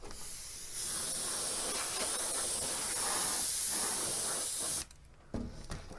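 A Grex Tritium airbrush with a 0.7 millimeter fan cap sprays paint in a steady, close, hissing stream lasting several seconds, then cuts off abruptly, leaving a brief quieter stretch.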